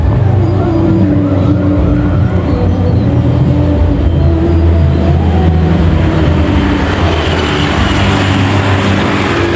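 A passenger train rumbles past close by near Kroya station, Indonesia, loud and continuous, with a heavy rolling drone and clatter from the wheels on the rails.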